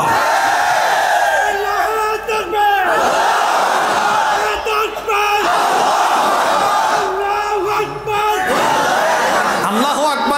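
A large crowd chanting the slogan Allahu Akbar in loud, repeated rhythmic shouts, several voices rising together in waves with short breaks between the cries.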